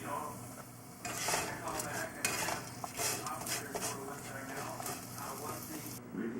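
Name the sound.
green onion added to sizzling pan with green peppers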